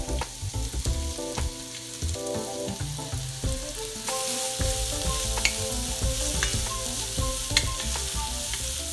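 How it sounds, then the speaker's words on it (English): Chopped onions sautéing in olive oil in a pot over medium-low heat, a steady soft sizzle with a few spoon stirs and clinks, close and continuous, with no talking. "So I've got those onions sauteing at about kind of medium-low heat."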